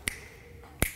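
Two crisp finger snaps ring out alone, spaced a little under a second apart, part of a body percussion canon routine.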